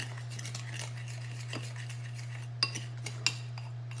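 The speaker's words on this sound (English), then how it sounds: "I'm just gonna stir this together, making a good old-fashioned cinnamon and sugar" A spoon stirring cinnamon and sugar together in a bowl, with a few light scraping strokes and several sharp clinks against the bowl near the end, close and fairly quiet over a steady background hum.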